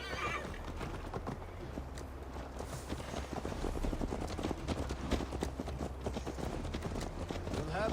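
Horses gallop in Assassin's Creed Valhalla, a steady rapid clip-clop of hooves with occasional neighs and whinnies, fairly close and continuous through a long ride.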